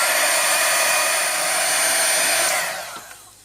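A heat tool drying paint on an art page blows a loud, steady high-pitched whoosh up close, then fades as it is switched off near the end.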